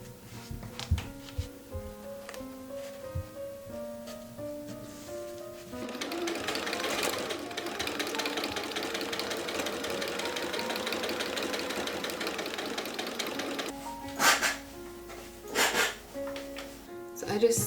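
A sewing machine stitches corset fabric panels together in a steady, continuous whir for several seconds, framed by quieter handling noises and background music before and after the run.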